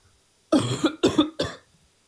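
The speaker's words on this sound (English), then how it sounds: "I have a terrible cough" Three harsh, close coughs come from one person in quick succession, each a loud burst that fades, with quiet before and after.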